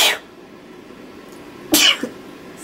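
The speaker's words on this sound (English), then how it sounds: "Oh, let me sneeze." One sharp human sneeze, a brief noisy burst that is close and fairly loud. A fainter, shorter exhale follows it in otherwise quiet surroundings.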